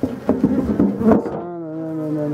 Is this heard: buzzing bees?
yes